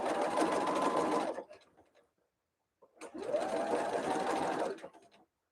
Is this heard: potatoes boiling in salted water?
no